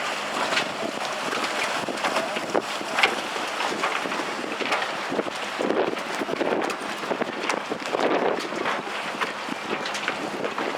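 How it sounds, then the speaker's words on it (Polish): Motorboats rumble across open water at a sailing regatta in Puck under steady wind buffeting the microphone, a continuous churning drone with splashes and no talk. "motorówki wypływają"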